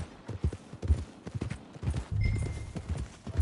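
Horse hooves clip-clop at a steady walking rhythm in Red Dead Redemption 2, close and moderately loud, with a brief low rumble partway through.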